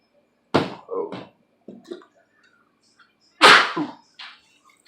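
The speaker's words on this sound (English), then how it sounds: "Seasoning makes you sneeze." Two loud, close sneezes about three seconds apart, set off by seasoning while a family meal cooks over minced garlic and onion, with brief quiet gaps and a faint vocal sound between.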